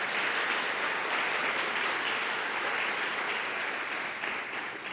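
A church congregation claps together in a dense, steady wash of applause that holds for several seconds, fading slightly at the end.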